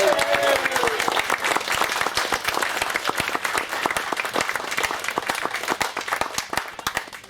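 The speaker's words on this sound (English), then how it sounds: "Let's have a big round of applause" Wedding-anniversary guests give the celebrating couple a big round of applause, sustained dense clapping from a crowd with sharp individual claps standing out, carried right through to the end.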